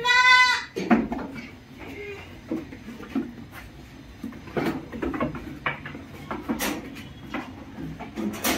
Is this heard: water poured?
no